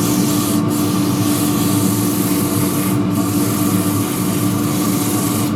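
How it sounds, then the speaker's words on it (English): Abrasive paper pressed against a wide-rimmed wooden dish spinning on a lathe, making a loud, steady, close rubbing hiss over the motor's constant drone, broken by a couple of brief dips where contact lifts. "So I sand one surface and really pull my fingers in against that angle there"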